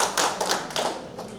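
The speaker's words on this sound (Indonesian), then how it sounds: "Tepuk tangan Ibu." Brief burst of clapping from the audience at the opening of an extraordinary PPTI congress in 2024, a few close, uneven hand claps fading out.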